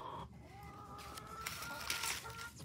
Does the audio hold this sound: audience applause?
no